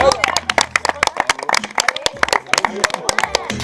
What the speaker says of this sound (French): Vous les applaudir.